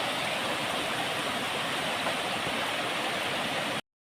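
A river swollen after the rains rushes in a steady, dense roar of flowing water, loud and unbroken until it cuts off abruptly near the end.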